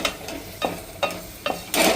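Small onion curry being stirred after chili powder and salt go in, a spoon scraping the pan in four or five short strokes over a soft sizzle, close up with no voices.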